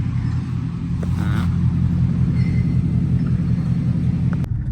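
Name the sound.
car driving to the college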